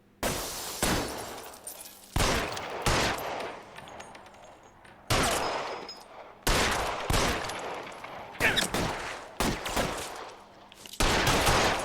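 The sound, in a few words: gunshots in the video game L.A. Noire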